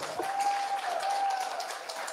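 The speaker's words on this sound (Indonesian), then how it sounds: "Tepuk tangan dong buat laki-laki yang baik." Students clapping in a school hall during a junior high career day, a brief dense burst of applause from a crowd, fairly loud and sustained for a couple of seconds.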